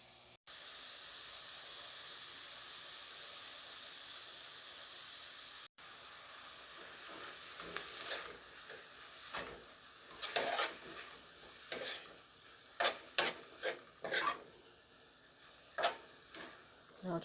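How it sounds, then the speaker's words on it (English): Saltfish added to a pot of vegetables cooked in coconut oil: a steady sizzling hiss, then a series of scraping stirs and clinks against the pot, irregular and close. "I'm going to squeeze the saltfish and add it to the pot."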